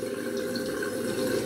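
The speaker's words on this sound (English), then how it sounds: "I just put the water directly into the bowl from the main stream of the tap" Tap water running straight from the faucet's main stream into a shaving bowl, a steady close splashing gush that continues throughout with no talk.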